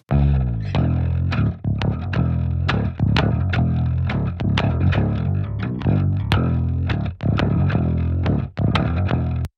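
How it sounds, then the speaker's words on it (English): A fingered jazz bass recorded direct, playing a steady run of plucked notes with distinct attacks, loud and close, heard within a full band mix with no talking. "We used a jazz bass to track the bass"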